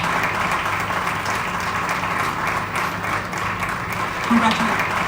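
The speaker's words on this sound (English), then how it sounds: "a resounding round of applause" An awards ceremony audience applauding for an honoree, a continuous even round of clapping from a large crowd, with a brief voice near the end.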